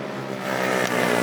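A motorcycle engine in a workshop revs up with a buzzing, rising harmonic note, held loud and close for about a second without speech.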